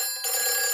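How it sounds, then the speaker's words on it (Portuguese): A cartoon fire station telephone in Peppa Pig starts ringing abruptly after a brief pause, a bright electronic trill sounding alone for a fraction of a second. "Peppa, esse é o telefone do bombeiro."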